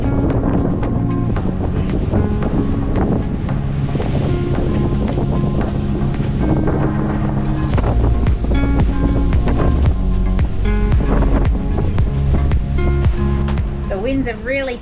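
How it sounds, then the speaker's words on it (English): Strong wind and rough waves batter a sailing boat under way at about seven knots, with a loud, constant rush of wind noise and water over a busy, layered background. "Winds have really picked up here and we're being thrown all over the place"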